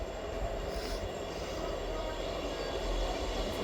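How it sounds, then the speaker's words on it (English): ScotRail Class 158 unit 158732 arrives at a station in a steady, loud rumble of wheels and engine, with faint squealing and rail noise and no clear talking. "Arriving in now is the 1729 ScotRail service from Edinburgh Waverley to Leven"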